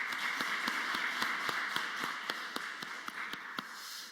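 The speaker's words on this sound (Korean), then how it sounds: "축복하고 격려하는 박수 하겠습니다." A church congregation claps together during a Wednesday service, a steady run of loud, even applause that fades slightly toward the end.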